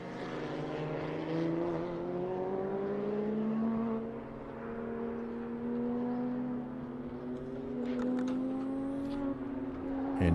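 Race car engine droning loudly past at Circuit of the Americas during a time attack session, likely the Toyota Supra, with a steady high-revving tone that rises in pitch, holding strong for the whole stretch.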